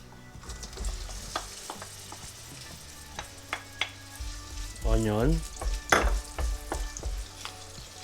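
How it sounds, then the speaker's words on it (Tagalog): Onion sautéing in hot oil for beef caldereta, a close crackling sizzle with scattered pops and scraping stirs against the pan, growing busier midway, no talking. "Let's saute our onion"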